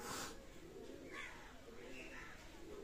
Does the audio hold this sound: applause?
no